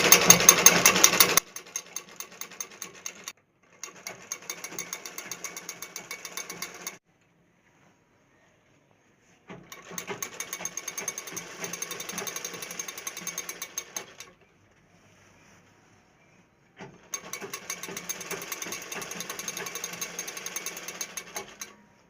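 A sewing machine stitches a lehenga along a marked line in three bursts of rapid, rattling mechanical chatter, separated by short silences, close by and with no talk.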